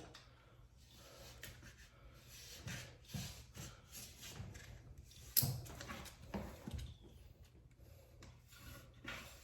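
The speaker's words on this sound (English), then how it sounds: "Okay, let's cut the side." A blade slicing along the side edge of freshly hung wallpaper gives soft, intermittent rasping and rubbing strokes with a few sharper scrapes, close and fairly quiet, with no talking.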